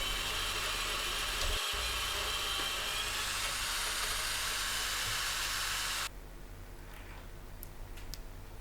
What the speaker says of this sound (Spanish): vamos a agujerear y atornillar para que quede ahí fija y no se mueva más